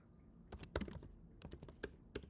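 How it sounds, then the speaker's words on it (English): Keys clatter on a computer keyboard in short irregular bursts of close, crisp taps as a title is typed. "I could type a title here"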